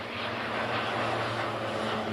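A steady, loud airplane engine drone from the Airport CEO game as a plane takes off, a continuous roar with a low hum that holds for about two seconds.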